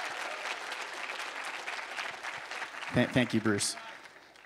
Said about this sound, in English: let's give him all one more big round of applause for the past 8 years